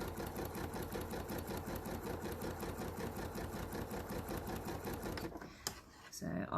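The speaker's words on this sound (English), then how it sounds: "just keep stitching, making sure I grab that fabric as it feeds through" A sewing machine stitches fabric with a fast, steady mechanical chatter that runs loud and continuous before stopping abruptly near the end, followed by a couple of brief clicks.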